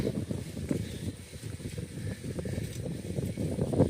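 Wind rushes past while bicycling around lakes, a steady low rumbling buffet across the microphone that swells and dips slightly without pause. No one talks.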